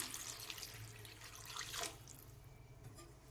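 Water pours into an egg curry gravy with winter vegetables, a brief splashing stream lasting about two seconds before tapering into quieter trickles, fairly close.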